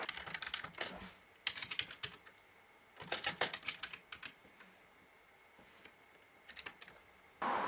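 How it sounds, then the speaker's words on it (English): Math problem typed on a computer keyboard, quiet close key clacks in quick clusters separated by short pauses. "Let's type in the problem."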